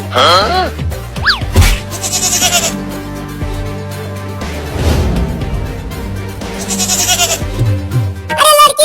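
A goat bleats loudly several times in a wavering cry, mixed with talk and other sounds.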